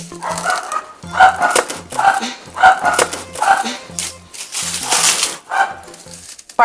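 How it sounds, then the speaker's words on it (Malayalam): A dog barks repeatedly at close range in a steady series of loud woofs, mixed with some whimpering yips. "പട്ടി എന്നെ കിടന്ന് കുരയ്ക്കുന്നു"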